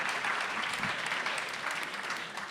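An audience at a debate event in Lyon applauds steadily, a dense and even wash of many hands clapping at moderate volume, with no voices standing out.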